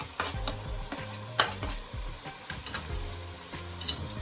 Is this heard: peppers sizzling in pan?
yes